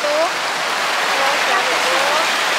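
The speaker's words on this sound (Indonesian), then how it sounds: "Berisik banget ya airnya ya?" Fast, noisy river water rushes steadily and loudly up close, filling the whole moment with a dense, unbroken roar.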